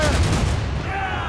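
Ship cannons firing in Assassin's Creed Rogue, a brief heavy boom at the start decaying into rumbling battle noise.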